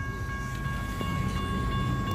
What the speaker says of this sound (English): There's another UP train over there.